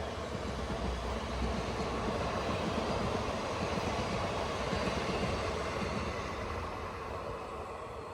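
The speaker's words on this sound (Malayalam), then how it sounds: "കാറ് കൊണ്ടുപോകുന്ന NMG ഗുഡ്സ് ട്രെയിനാണ് ഈ പോകുന്നത് കേട്ടോ" An NMG goods train loaded with cars rolls past behind a WG9 locomotive, a steady loud rumble of wheels and wagons that holds throughout and eases slightly toward the end, with no voices.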